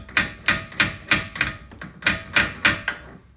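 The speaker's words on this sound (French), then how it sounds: "Je vais le rentrer un peu au marteau." A hammer taps an ABS sensor into place on a SEAT Ibiza, striking eight times in a steady rhythm, each blow sharp, close and loud with a short metallic ring.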